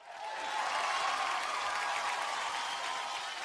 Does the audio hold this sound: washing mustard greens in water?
no